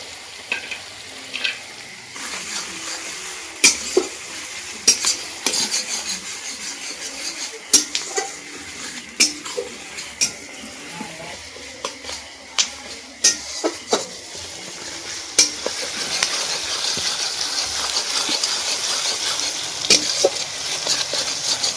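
Whole spices and onion fry in a pan for chicken curry, a steady close sizzle broken by frequent sharp clinks and scrapes of a spoon stirring against the pan, the hiss growing denser toward the end.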